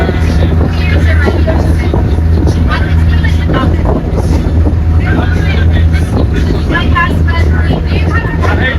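A catamaran's engine drones steadily under loud wind buffeting the microphone, with voices talking over the constant roar.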